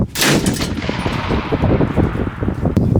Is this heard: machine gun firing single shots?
yes